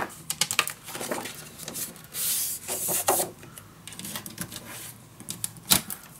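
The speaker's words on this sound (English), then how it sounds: "Making a fold line." A scoring tool drawn along a fold line in patterned paper on a desk for an ocean-themed scrapbook mini album, giving short close scraping and rubbing strokes with a few sharp taps between them.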